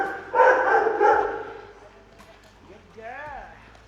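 A dog gives a few short barks and yips amid people talking nearby, moderately close, with a whining, rising vocal near the end.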